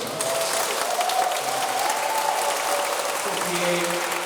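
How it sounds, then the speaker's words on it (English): Audience applause at the INSPIRE Awards 2019 ceremony honouring women: a dense, steady wash of clapping from a large crowd, loud and continuous throughout, with faint voices and tones blending in underneath. "I think we should give them a round of applause"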